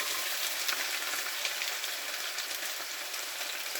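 Onions sizzling steadily in a pool of extra virgin olive oil in a hot pan in a tiny home kitchen, a continuous bright crackling fry with no talk over it.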